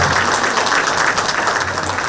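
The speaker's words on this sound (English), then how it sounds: "A round of applause for all of the panelists." Audience clapping for the panelists at the close of a fintech panel session, a short, steady burst of many hands applauding together.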